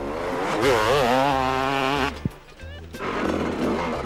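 KTM 300 two-stroke enduro motorcycle at the 1997 Gilles Lalay Classic near Bourganeuf, engine revving and climbing through gears loud and close, easing off briefly, then revving again.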